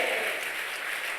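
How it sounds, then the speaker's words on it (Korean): Many worshippers clap together in a church at an evening revival meeting, a continuous, even wash of applause that holds steady throughout, with no talking over it. "하나님께 영광의 박수."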